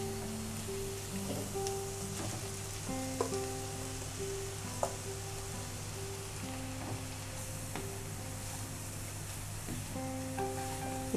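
Beetroot fries in a pan for a curry, giving a faint, continuous crackling sizzle like light rain, with a few soft scrapes of stirring and no speech over it.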